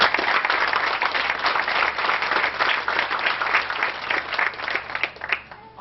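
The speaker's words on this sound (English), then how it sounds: "let's give them a round of applause" Applause from an audience at a 2001 high school awards event honoring supporters of away football games, steady dense clapping throughout the whole stretch, fairly full and close.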